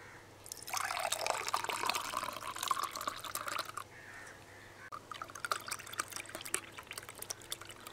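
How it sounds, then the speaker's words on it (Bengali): Lychee ghol, a buttermilk drink, is poured in a continuous liquid stream into a container, a steady splashing fill that pauses briefly and then resumes more unevenly. "এবার ঢেলে নেব লিচুর ঘোল।"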